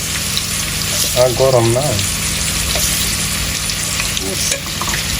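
Chicken being fried and stirred in ghee for chicken pulao, a steady sizzle with scraping spoon strokes throughout and a brief voice partway through.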